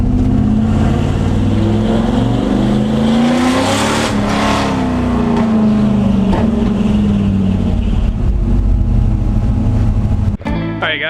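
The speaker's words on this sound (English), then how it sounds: "a lot of loud noises because I was in first gear the whole time" A truck engine held in first gear and revving hard, loud and close, its pitch climbing and then sagging in long sustained pulls, ending with a brief clatter.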